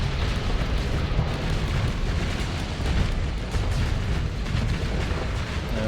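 Space warships in Starsector opening fire, a dense, continuous barrage of booming blasts and explosive bursts rumbling loud and close with no pauses.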